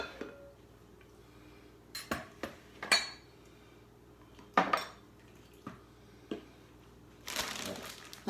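Small metal puto pans clink and clatter against a counter in a home kitchen, several separate sharp knocks and scrapes spread across a quiet background with no talking.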